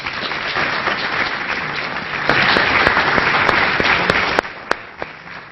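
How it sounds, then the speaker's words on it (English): Applause for an esports panel of game developers fills the room, with a steady wash of audience clapping that swells louder partway through, sharp individual claps popping out near the end. "Big round of applause."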